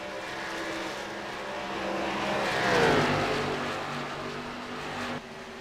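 Race cars roar past in a racing video game at Texas during an online league round, a sustained engine drone swelling to a near pass around the middle and then easing off, with no talking.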